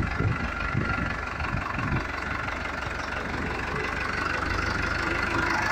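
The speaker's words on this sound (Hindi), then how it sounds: "हाथी ट्रैक्टर आ रहा है।" A Farmtrac 6055 tractor engine idles with a steady, low mechanical chug and faint knocking, moderately loud and continuous throughout, with no clear speech over it.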